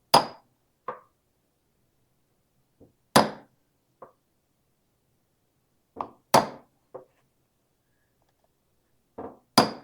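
A hammer strikes metal sheet shaped in a pitch bowl for a Mandalorian armor pauldron, giving sharp isolated blows at an irregular pace with quiet gaps between them, close and fairly loud.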